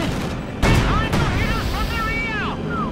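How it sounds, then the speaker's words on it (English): Mortar blasts and gunfire from the real-time strategy game Company of Heroes 2, a heavy boom followed by a second impact amid steady battle noise, with whistling shell sounds and ongoing commentary over it. "Shock troopers and mortars doing their deadly work."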